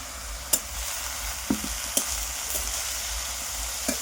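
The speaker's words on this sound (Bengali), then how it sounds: "পেঁয়াজ দিয়ে শাক ভাজা করছি।" Leafy greens with onion frying over a wood-fired stove, a steady close sizzle broken by a few sharp clicks and scrapes of a spatula stirring the pan.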